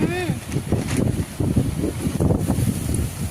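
Strong wind buffets and rumbles in gusty bursts throughout, with a voice audible briefly at the start.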